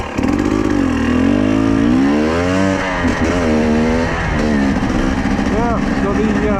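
A two-stroke adventure motorcycle loaded with weight, its engine droning and rising and falling in pitch as it rides along, loud and close throughout with steady wind rush.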